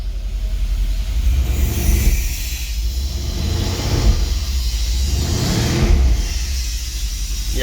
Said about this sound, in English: that's why you hear the turbocharger